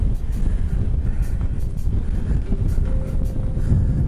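Strong wind buffets the microphone on a hilltop in the Welsh Marches during a VW van road trip, a steady low rumbling roar with gusty swells.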